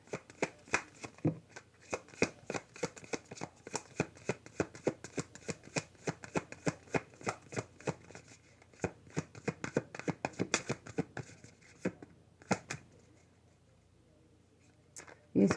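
Tarot cards are shuffled close up in a long run of quick, crisp riffles and slaps with a steady rhythm, ending with a louder knock.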